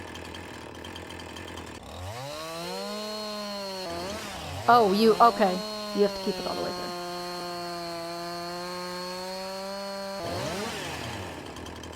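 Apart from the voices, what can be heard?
chainsaw cutting a tree in video game Farming Simulator 19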